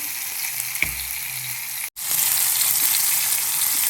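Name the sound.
green chillies cooking with salt in a pan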